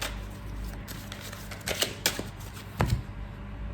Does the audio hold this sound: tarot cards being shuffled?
yes